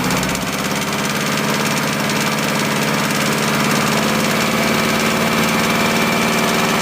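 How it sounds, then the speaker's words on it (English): Car engine held at about 2500 RPM during a catalytic converter test, a steady loud mechanical drone with a low rumbling hum that stays constant throughout, with no talk. "Now if we raise the RPMs at 2500"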